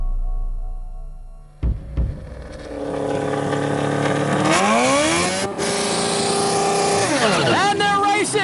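Hot rod cars racing: engines rev and roar loudly, pitch sweeping up through gear changes as they accelerate, with an excited commentator talking over the noise.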